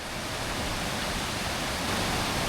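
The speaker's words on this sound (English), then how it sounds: "The waterfall at the back." Dungeon Ghyll Force, a waterfall in the Lake District, a loud, even, broadband roar of falling water that holds steady and close throughout, with no voices.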